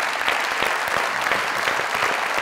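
Loud, dense applause from a studio audience at a Pakistani comedy talk show taping, greeting a film star's entrance, steady and continuous throughout with scattered sharp claps and no talk over it.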